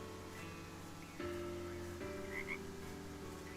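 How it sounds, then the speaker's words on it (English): A white-lipped tree frog in the farming game Story of Seasons: Grand Bazaar gives sustained droning croaks that start and shift in steps over a soft rain-like ambient bed, with no speech. "White-lipped tree frog."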